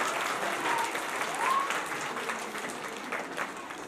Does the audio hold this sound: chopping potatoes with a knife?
no